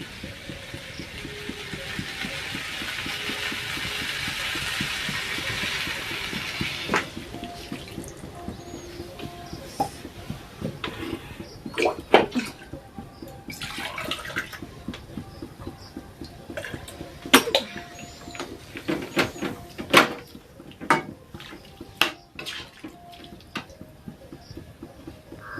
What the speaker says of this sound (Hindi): बस पानी डाल दी हूँ